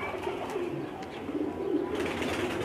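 Pigeons feeding on grain at a loft in Lahore, with soft low cooing repeated under a steady noisy background, the calls fairly close but not loud.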